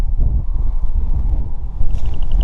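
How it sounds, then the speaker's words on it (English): Strong wind of about 20-25 mph gusts buffets the microphone outdoors while fishing in a steady low roar with gusting swells, loud and continuous, with no talk. "I think we're getting like 20-25 mile an hour gusts here."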